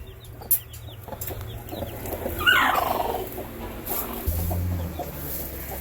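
A hen among four small chicks on open pasture, with clucking and a soft gobbling call rising near the middle over a steady low background hum.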